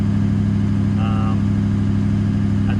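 A Toyota LandCruiser 200 series engine idles steadily at about 1500 rpm with a continuous low hum, close up, after the viscous fan hub has cut out; a brief faint tone sounds partway through.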